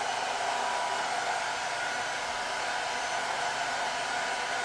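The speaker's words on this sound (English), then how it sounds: "I got to run the hair dryer here really quick. This is how we dry our watercolors right here." A hair dryer drying a watercolor painting at a drawing desk, a steady, even whooshing roar of blown air that runs unbroken and close throughout, with no talking.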